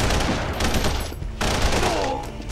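Rapid bursts of automatic gunfire in a Punisher video game, loud and close, rattling in quick volleys with a short gap before firing resumes.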